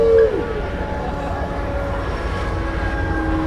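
A train rumbles past at a rally near San Onofre, giving a loud steady roar with sustained tonal hum and a sharp squeal at the start, heard alone without talk.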